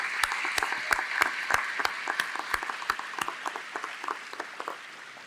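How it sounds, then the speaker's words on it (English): A small, sparse crowd claps at a technical institute graduation ceremony, with distinct individual claps standing out over a soft spread of applause that gradually thins. "Let's give her a round of applause"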